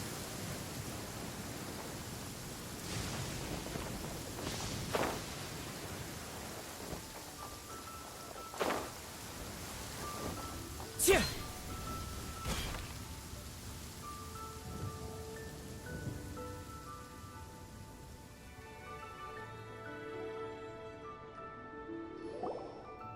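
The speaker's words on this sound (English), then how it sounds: "Taking a stroll in the middle of a downpour certainly rouses the spirit." Heavy rain downpour, a steady hiss of falling water with scattered louder drips and splashes, fading and thinning toward the end as faint tonal sounds emerge.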